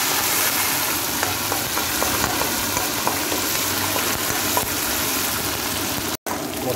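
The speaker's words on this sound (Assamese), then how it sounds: "মছলাখিনি ধুনীয়াকৈ ফ্ৰাই কৰি লৈ" Spice paste with raw chilli sizzles and fries steadily in a pan, a dense continuous hiss with occasional stirring clicks, close and loud, cutting out briefly near the end.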